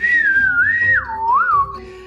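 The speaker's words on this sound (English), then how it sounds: "the unique one-finger whistling system of silbogomero that allows for loud and variable pitch whistling" A loud one-finger Silbo Gomero whistle, close and clear, gliding smoothly up and down in pitch across a couple of seconds, alone with no talk.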